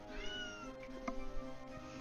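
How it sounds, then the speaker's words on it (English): A pet cat lets out a drawn, wavering meow that sits close and steady over a constant background hum, lasting the whole moment with a few small clicks but no talking. "Gosh, the cat's being crazy."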